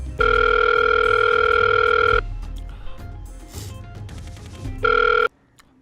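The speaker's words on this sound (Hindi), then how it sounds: "रुको, मैं इसको भी फोन लगाता हूँ।" An electronic telephone tone rings out in a long steady burst, pauses briefly, then sounds again for a short moment before cutting off.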